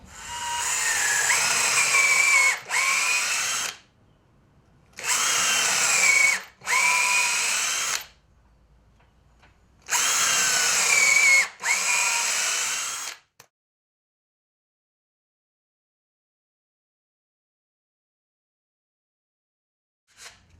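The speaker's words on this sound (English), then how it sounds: "That way the drill goes clean through the base plate, but actually bites into this piece." A power drill whirs in three separate bursts, each pair of short runs separated by pauses, close and loud, followed by long silence, as it drives a screw through a base plate into reclaimed wood.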